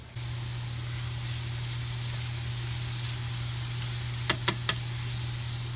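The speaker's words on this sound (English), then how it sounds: "And then you're gonna add your onion and your garlic" Onion and garlic frying in a pan give a steady, even sizzle-hiss throughout, with a low constant hum beneath and a few quick, sharp clicks near the end.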